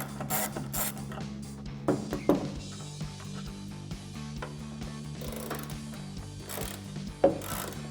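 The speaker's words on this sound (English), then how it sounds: "grab a T25 Torx socket and a ratchet" A hand ratchet with a T25 Torx socket backs out the taillight bolts on a 2009-2018 RAM 1500, giving quick repeated clicking bursts with short pauses between them, close up and clear.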